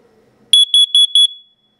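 Four sharp, shrill beeps from a First Alert digital display carbon monoxide alarm self-test sound in rapid succession, loud and close, with the last tone ringing briefly before fading out.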